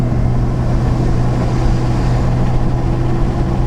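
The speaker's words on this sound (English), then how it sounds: "Let off the gas, you can hear the engine." A Ford 6.7 Powerstroke diesel pickup coasting downhill off the throttle in fourth gear at about 1,900 RPM: a steady, low, droning engine hum with road rumble, even and unbroken.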